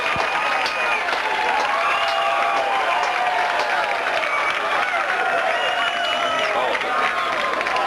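Steady cheering and clapping from a crowd at a 1990 South Carolina state championship high school baseball game, with shouts and whistles over it and a voice talking through the noise.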